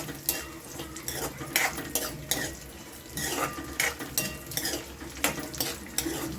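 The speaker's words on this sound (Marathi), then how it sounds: "आता हे फ्राय तुपामध्ये करतोय ना" Grated bottle gourd frying in ghee for dudhi halwa, a continuous close sizzle broken by repeated metal spoon scrapes and clinks against the pan in an uneven stirring rhythm.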